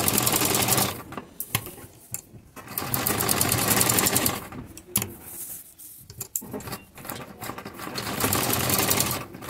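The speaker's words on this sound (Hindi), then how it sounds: "इस तरह से हम यहाँ पर एक तिरछी सिलाई लेंगे, एक मार्क के दूसरे मार्क के ऊपर" Sewing machine stitching a diagonal seam across fabric between marked points, running in loud continuous bursts with brief pauses in between.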